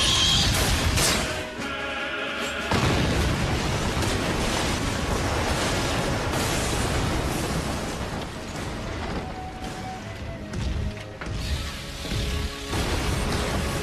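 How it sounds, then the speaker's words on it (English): Loud, continuous crashing and rumbling from a cannon being destroyed in the video game Super Smash Bros. Brawl's Subspace Emissary, with sudden bursts of blasting noise rising and falling across the whole stretch. "Kirby just comes out of nowhere and completely obliterates the cannon."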